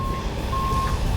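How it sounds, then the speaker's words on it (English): Reversing beeps from a 2020 Freightliner 122SD side-dump truck backing up, a steady tonal beep over low engine rumble, fairly loud and close. "And for that truck that's backing up right now"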